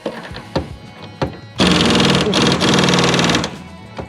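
A power impact wrench tightening the rear shock bolts on a Chrysler Conquest, close and loud, starting with a few sharp single taps and then a sustained rattling hammer burst lasting about two seconds.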